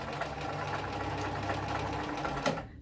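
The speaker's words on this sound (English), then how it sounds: "then George will just start stitching backwards" Sewing machine running steadily in reverse, stitching backwards with a continuous even motor whir and rapid needle chatter, close and alone until it stops near the end.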